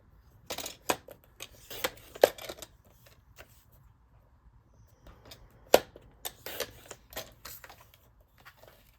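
Scissors cut through cardstock for a gift card box, heard close up as scattered crisp snips and paper rustles in irregular bursts, with two sharper clicks, and no talk.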